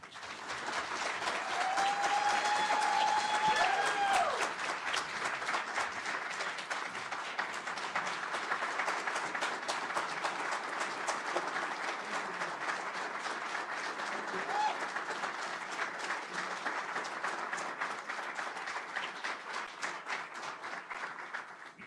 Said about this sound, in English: Can we give him a rousing round of applause now?